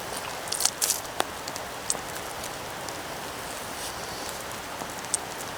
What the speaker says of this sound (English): And it's raining like hell.